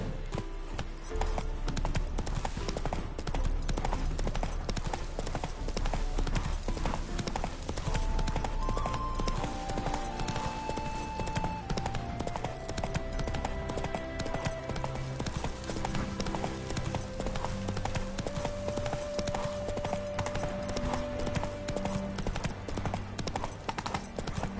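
A horse gallops in The Witcher III: Wild Hunt, its rapid rhythmic hoofbeats pounding steadily and close throughout over game ambience and background music, with no speech heard.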